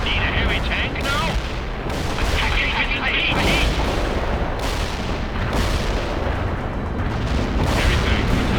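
Tank cannon fire and explosions rumble through a World in Conflict battle, heavy booming blasts landing every second or so amid continuous roaring combat noise, with voices talking underneath.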